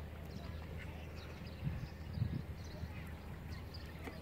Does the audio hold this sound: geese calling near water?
yes